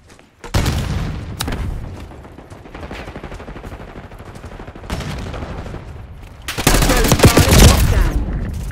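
Frag grenade and gunfire in Black Ops 6 multiplayer on PS5: a sharp blast opens a stretch of rumbling gunfire, then a second loud, dense explosive burst near the end, heavy and close.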